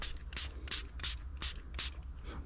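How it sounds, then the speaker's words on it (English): A hand pump spray bottle mists fluid onto a touch screen protector in six quick, evenly spaced bursts, close and crisp, with no talk in between. "I'm just going to keep spraying this"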